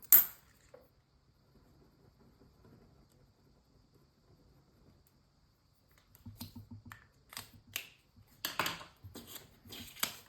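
Coins dropped and counted into a pink budget envelope, a faint clatter near the start, then a cluster of close, bright metallic clinks and taps over the last four seconds with no talking.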